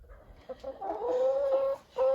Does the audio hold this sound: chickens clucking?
yes